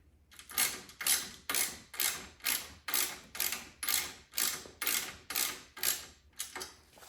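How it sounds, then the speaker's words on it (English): A wrench ratchets in a steady rhythm while snugging the bolts of a grill guard on a John Deere 1025R compact tractor: about a dozen crisp, evenly spaced clicking strokes, close and clear, with no talk. "You got your wrench facing the right way there"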